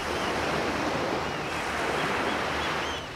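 Wind-driven waves break on a Wadden Sea beach, a dense, steady roar of surf mixed with wind rush.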